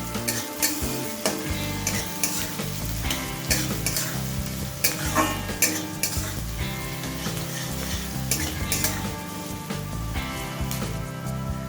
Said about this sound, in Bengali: মাছটাকে হালকা লাল করে ভেজে নেব